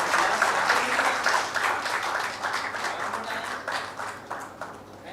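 Sustained applause from an audience at a medical conference award ceremony, a dense steady wash of clapping that tapers slightly toward the end, with no voices over it.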